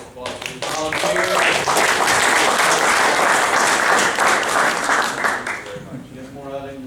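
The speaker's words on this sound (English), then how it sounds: "let's give Rob a thunder of applause." Loud, sustained audience applause at a lean manufacturing summit lecture in Atlanta, swelling quickly and holding steady for several seconds before tapering off as a voice returns at the end.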